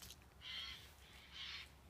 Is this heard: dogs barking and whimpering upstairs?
no